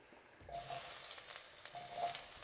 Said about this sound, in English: in goes the aubergine